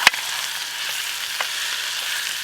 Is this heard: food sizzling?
yes